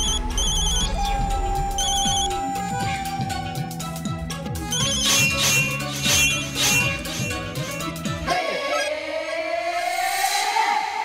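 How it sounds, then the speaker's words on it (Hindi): Mobile phone ringing with a repeating electronic ringtone melody, loud and close, cutting off near the end into a fading tonal sweep. "ये रसीला फिर से फोन कर रही है।"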